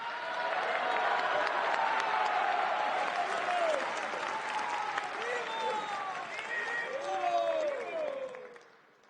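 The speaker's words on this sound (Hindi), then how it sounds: "और अभी जब आप कर रहे थे और मैं ताली बजाना शुरू हो गया" A crowd at a 150th birth anniversary programme breaks into sustained applause, dense clapping mixed with raised voices that holds steady before tapering off at the end.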